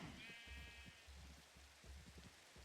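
Faint sheep bleats in Minecraft rise briefly over a soft, steady patter like rain, quiet and a little distant.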